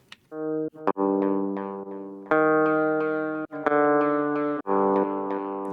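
Electric guitar with humbucking pickups, recorded dry through direct input with no amp: a series of picked notes and chords, each ringing out and decaying before the next strike, close and clean with no other sounds.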